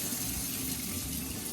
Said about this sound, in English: all you need to do is just like run the water